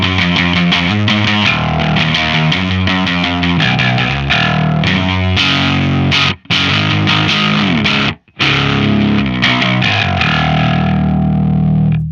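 Electric guitar played through a NativeAudio Kiaayo effects pedal with the volume turned up, giving loud distorted chords and riffs that ring out steadily, with two brief stops before the playing resumes and a held chord at the end.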